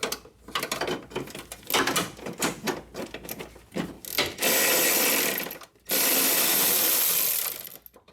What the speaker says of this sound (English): There's a 10mm bolt over here that I have to remove